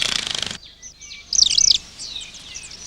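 A wren sings from an open perch in bright, rapid trilling bursts, one buzzy rattle followed by a burst of high warbling notes, clear and close with short pauses between.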